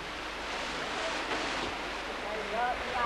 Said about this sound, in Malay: keindahan air terjun yang terdapat di belakang ini